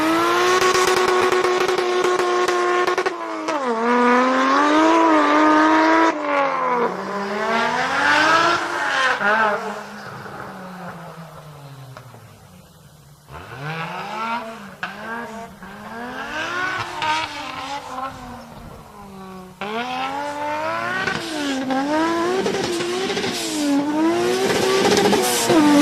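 An engine-swapped off-road car in GTA Online revs hard through repeated rising and falling gear sweeps, accelerating loudly, easing to a low idle midway, then roaring up again.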